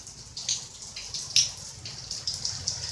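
Steady rain falling outdoors during a California rainstorm, heard as a soft continuous hiss with scattered brighter drips and spatters, fairly faint and close by, with no talking.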